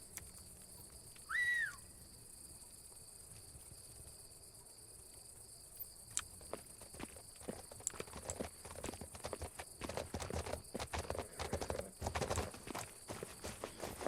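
Horse hooves clip-clop in the Legend of Khiimori game after a short whistle calls the horse. The hoofbeats build from quiet to steady over a constant bed of cricket chirps.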